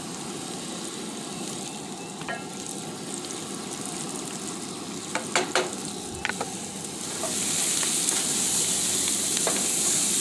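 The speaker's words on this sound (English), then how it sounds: "I want that sizzle" Sausage and peppers sizzle steadily in a hot pan, a close, continuous crackling hiss with a few light clinks of stirring, and the sizzle swells louder near the end.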